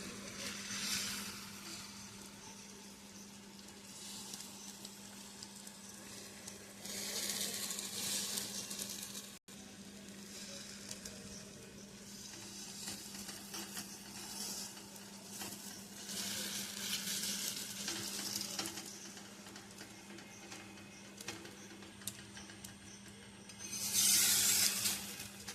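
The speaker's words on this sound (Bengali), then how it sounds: "এবারে দেব ময়দা গোলা, খুন্তি দিয়ে মেলে দেবো চারিদিকটা।" Flour batter hisses softly in a hot pan as a spatula spreads it around, with quiet sizzling that swells in a few louder bursts alongside faint scraping.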